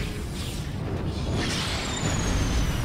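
Fireworks bursting in the video game Overlord II: a dense, continuous wash of loud booms and crackling blasts, with a thin high whistle streaking across, and no voices.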